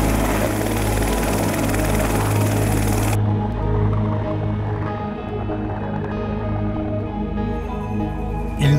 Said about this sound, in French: L'hélicoptère de l'organisation qui suit le tour un écureuil se pose